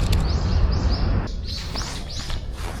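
Azure-winged magpies call from a tree in a Tokyo park: a series of rising, slurred calls in two short bursts, fairly clear over a rumbling outdoor background.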